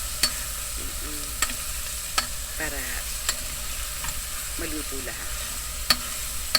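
Garlic and onion sautéing in a pot for chicken lugaw, with a steady sizzle, periodic scraping and clinking of a spoon stirring, and someone talking briefly over it.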